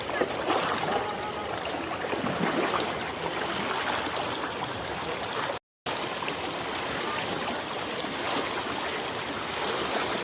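River water rushing and gurgling over stones as a group wades across, a steady broad wash of flowing water throughout with a brief break midway.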